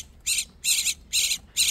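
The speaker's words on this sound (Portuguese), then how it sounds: "Dia inteiro piando assim, ó." A young thrush (sabiá) chick chirps insistently in four evenly spaced, shrill calls, close and loud against a quiet background.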